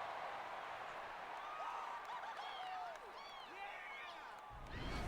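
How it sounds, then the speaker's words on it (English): A large stadium crowd at an American football game between the Minutemen and the Wave Chasers in San Francisco keeps up a steady roar, with whistles and whoops rising above the wash of noise. "The crowd is really getting into this, which is great."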